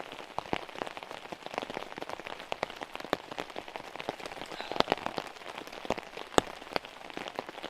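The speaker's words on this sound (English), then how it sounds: "I feel like that's all I've done recently, is just camp in the flipping rain." Rain drumming on a tarp over a hammock camp, a dense, close patter of individual drops with a few sharper hits, steady and fairly soft with no voices.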